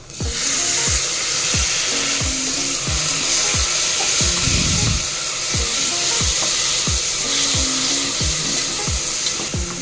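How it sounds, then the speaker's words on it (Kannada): Chopped onions and tomatoes fry in a pan with a steady close sizzling hiss, while a spatula scrapes and stirs in regular strokes about twice a second, and no one speaks. "ಇದು ಒಂದು ಲೈಟ್ ಬ್ರೌನ್ ಆಗುವವರೆಗೆ ಫ್ರೈ ಮಾಡಿ."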